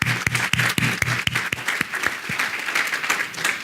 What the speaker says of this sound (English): why don't we welcome our distinguished panel with a round of applause